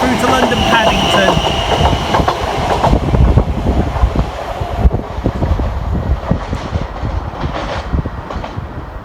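A Greater Anglia train on the Great Eastern Main Line runs fast through a station with no stop, heading from Southend Victoria to London Liverpool Street. A loud, steady rush of wheels and rail rumble lasts the whole time, along with wind buffeting the microphone.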